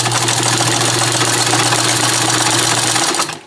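A Singer 128 clone sewing machine stitching at a long stitch length, running as a steady, fast mechanical whir with a low hum and rapid rhythmic needle clatter, close and loud, then slowing and stopping at the end.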